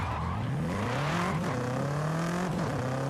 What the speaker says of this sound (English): So here I'm trying to do a power slide, but that was all understeer